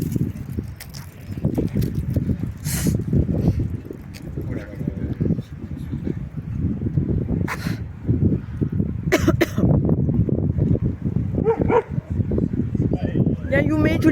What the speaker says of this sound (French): Il y a un beau chien là aussi